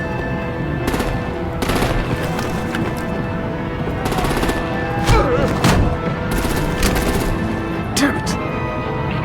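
Heavy artillery and automatic gunfire in the Batman: The Telltale Series video game, sustained loud bursts of rapid shots with booming impacts under a dense game soundscape throughout.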